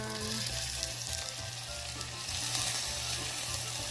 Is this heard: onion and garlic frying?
yes